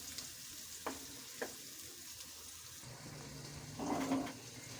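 Diced potatoes sizzle softly in a pan for mixed vegetables, a steady low frying hiss with a few brief stirring knocks and a louder burst of sizzling near the end.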